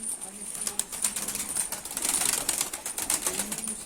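Mardin game pigeons feed and take flight close by, giving rapid clattering wing flaps and pecking taps in quick irregular bursts over a low hum of background voices.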